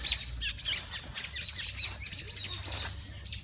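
Robins chirping up in trees outdoors, a steady stream of bright, close chirps and tweets overlapping throughout with faint rustling below.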